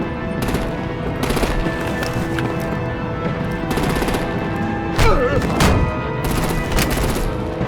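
Rapid machine-gun and rifle fire rattles in a Batman video game battle, with repeated bursts, heavy impacts and a booming hit partway through, and voices shouting in places.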